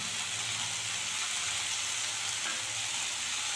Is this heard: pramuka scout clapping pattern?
no